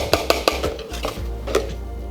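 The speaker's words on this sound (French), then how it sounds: "On va juste le mélanger, histoire d'avoir une pâte homogène." Powders, orange paste and eggs stirred into a biscuit batter in a bowl, giving a few sharp knocks of utensil against the bowl followed by soft scraping, close and fairly quiet, with no talking.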